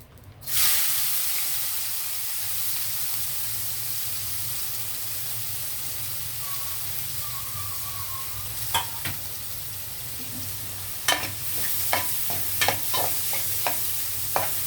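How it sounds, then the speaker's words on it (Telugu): Sliced onions fry in hot oil, the same oil just used for frying eggs, giving a loud, continuous sizzle and hiss up close, with a few sharp spatula scrapes and taps near the end. "ఇదే ఆయిల్లో నేను ఆనియన్ వేసి వేపేస్తానండి ఉల్లిపాయలు వేసేసి వేపేయడం"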